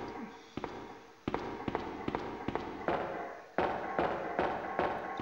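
Repeated sharp gunshots fired at a crocodile in the PlayStation game Resident Evil 2, about a dozen punchy cracks at irregular intervals over a steady game background, close and loud.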